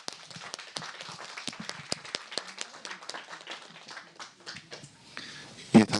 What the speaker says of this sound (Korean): 다시 한번 열정적으로 발제를 해주신 윤순진 교수님께 큰 박수 부탁드리겠습니다